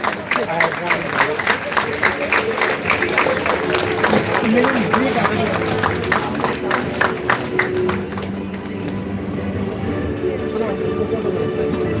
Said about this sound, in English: I request you to give them a big round of applause.